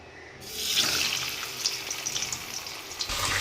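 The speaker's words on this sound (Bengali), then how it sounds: "তেল গরম হয়ে গেছে, আমি এখানে মাথাটা ইলিশ মাছের মাথাটা ভেজে নেব।" A hilsa fish head fries in hot oil in a pan. After a short quiet start, a steady, fairly loud hiss and sizzle takes over and continues with no voices.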